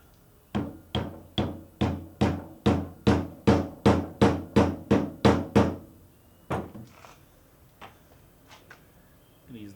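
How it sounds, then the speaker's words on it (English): A rapid series of about fifteen sharp metallic knocks from a brass hammer striking metal during a BMW R1100/R1150 motorcycle throttle body rebuild, evenly spaced and close, followed by a few scattered lighter taps. "Or use a brass hammer."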